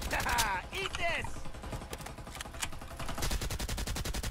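Rapid bursts of gunfire from the video game Farlight, loud and close, with excited voices talking over the shots.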